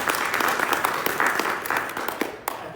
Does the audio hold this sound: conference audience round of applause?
yes